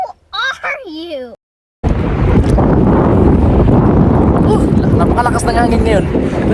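A brief spoken exclamation, then a sudden roar of strong wind buffeting the microphone, loud and continuous to the end.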